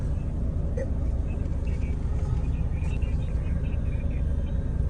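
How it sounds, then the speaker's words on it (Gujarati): Steady city road traffic in Surat, a dense continuous rumble of cars, buses and motor vehicles with low engine drone throughout and faint scattered higher tones, close and loud without breaks. "સુરતનું ટ્રાફિક"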